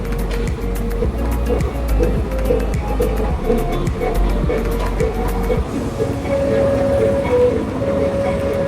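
A train rumbles past at close range at a railway station, with a steady heavy roar and rhythmic clicking of wheels over rail joints, with a faint voice underneath.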